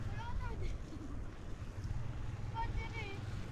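Boat engine running at sea, a steady low rumble throughout under wind noise on the microphone and splashing water, with faint voices calling out in the background.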